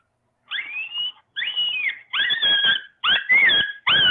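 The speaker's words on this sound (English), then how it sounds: "Then you got the coyote pup." A coyote pup calls in a series of five rising, whistle-like yelps with short gaps between them, heard clearly and fairly close over otherwise quiet outdoor surroundings.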